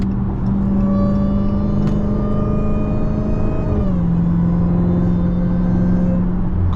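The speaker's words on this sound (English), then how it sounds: "Car just whining and shit." A Dodge Hellcat Jailbreak V8 drones loudly and steadily from inside the cabin at speed, its supercharger whine holding a high pitch, then the tone drops midway as the engine eases back.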